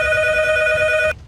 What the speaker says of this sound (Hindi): टेलीफोन की घंटी बजती है